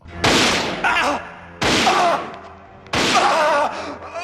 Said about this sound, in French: David finit criblé de balles par Nancy